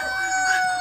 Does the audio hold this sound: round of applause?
no